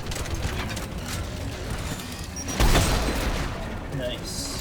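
Turret gunfire and explosions in the video game Mass Effect 3, a dense wash of mechanical firing and rattling with a louder boom near the middle, all close and continuous.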